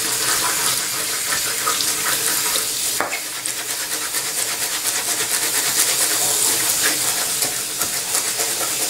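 Water runs steadily from a tap while a makeup brush is rinsed under it, a continuous broadband splashing hiss that holds for the whole stretch with a brief dip partway through.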